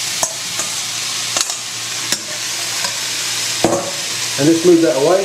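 New potatoes tumbling into a hot pan on a ring turned to max, giving a steady frying hiss with a few scrapes and knocks, and someone speaking briefly at the end.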